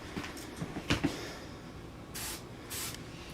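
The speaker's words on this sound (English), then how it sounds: "I spray it on everything. Just hit it like this." Two short hissing bursts of an aerosol lubricant sprayed onto a fishing reel, close and clear, after a few light handling clicks.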